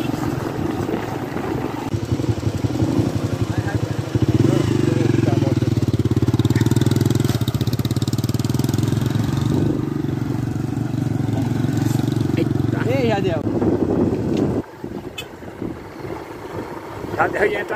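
A motorcycle engine runs steadily with a buzzing drone that rises to a strong, sustained hum for several seconds, mixed with wind noise and some talk.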